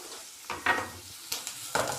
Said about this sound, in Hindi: अब इसके अंदर हम शिमला मिर्च डालेंगे।